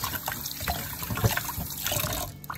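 Tap water running to rinse fish soaked in vinegar and lime juice, a close, steady splashing stream with small irregular gurgles and drips, no talking.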